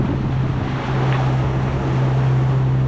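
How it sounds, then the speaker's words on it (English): Aboard an Excess 14 sailing catamaran in about 14 knots of wind, a constant broad rush of wind blows against the microphone over a steady low hum, with no talking. "So it's getting up, 14 knots of wind now."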